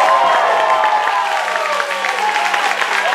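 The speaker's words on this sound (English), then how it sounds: "Give them a great big round of applause." An audience at an outdoor dry grad celebration claps steadily in dense, continuous applause. The clapping is loud and sustained throughout, with scattered cheers mixed into the crowd noise.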